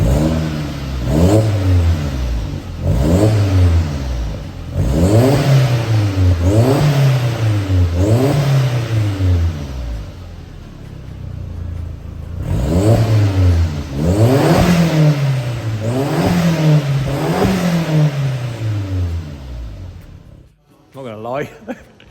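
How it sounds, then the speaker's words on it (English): A modified Audi S3 four-cylinder turbo engine revs repeatedly, rising and falling in rhythmic blips, loud and close, with talk faintly beneath at points, then cutting off near the end. "Right, let's give it a couple of revs."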